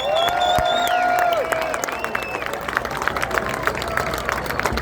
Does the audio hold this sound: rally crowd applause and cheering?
yes